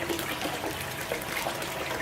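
A hose pours water steadily into a mining sluise setup while first-year tailings are re-run, giving a continuous close rushing trickle with no voices.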